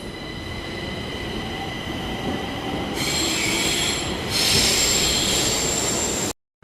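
Steady rumbling of a metro train in Chennai is topped by high, sustained metal-on-rail wheel squealing that swells louder midway, then cuts off abruptly.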